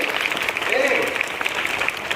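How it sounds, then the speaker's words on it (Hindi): Children clapping at a Sanskrit day school event, a dense, continuous patter of hands close by, with an adult voice talking over it. "आप बजाइए ताली, बजाइए"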